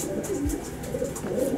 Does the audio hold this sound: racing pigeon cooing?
yes